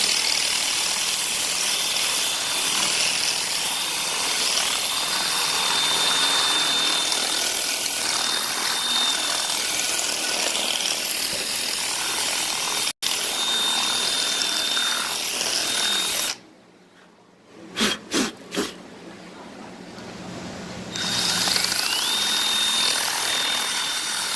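A power drill with a masonry bit bores into rock for a bonsai planting, a steady, loud grinding drone that runs continuously before cutting out briefly, followed by a few sharp knocks before the drilling resumes.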